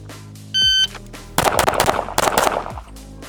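A shot timer beeps, then a Mod 2 pistol fires a rapid string of loud, close shots during a timed drill, each sharp crack tightly spaced over about a second and a half.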